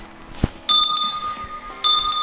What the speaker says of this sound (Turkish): Şöyle zil şey çalıyor